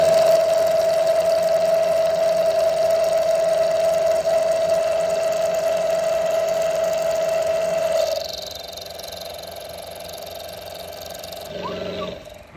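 Mini lathe with a milling setup cutting two slots in cast iron: a steady, loud machining whine with a constant pitch and motor hum, then a drop to quieter running and a brief clatter near the end.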